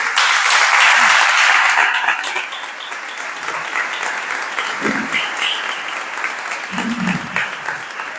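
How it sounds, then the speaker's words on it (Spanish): An audience at a foundation lecture on a seventeenth-century painter claps warmly for the speaker, with loud, full applause at first that settles into a steady patter while faint voices murmur underneath. "os pediría un aplauso para el señor conferenciante."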